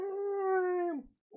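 A human voice imitates a Godzilla roar with a single sustained, tonal howl held for about a second, then dropping off, close to the microphone.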